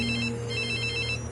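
A cell phone rings steadily with a repeating electronic tone, loud and close, while a low background hum runs underneath.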